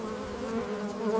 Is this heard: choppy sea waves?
no